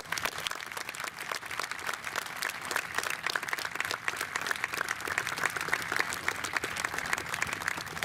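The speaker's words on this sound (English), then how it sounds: "we think it's those guys that deserve a real round of applause today" Crowd applause from spectators at an outdoor New York State Police special operations demonstration on a hot day, steady dense clapping that holds evenly loud throughout without pause.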